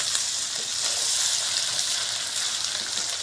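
Bitter gourd with prawns fries in a pan, giving a close, steady, loud sizzle and hiss with faint stirring underneath.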